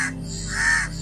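A crow caws in a drawn-out call as a sound effect in a Hindi mythological story, loud and close over a steady low hum, with no speech.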